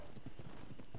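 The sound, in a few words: unicorn horse in video game ARK: Survival Evolved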